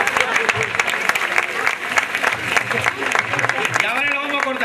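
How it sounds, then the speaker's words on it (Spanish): A crowd applauds with dense, steady clapping, with voices and cheering mixed in throughout. "Pueden aplaudir."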